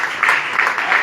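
A church congregation applauding and cheering during worship, a loud wash of clapping in swelling bursts over one second.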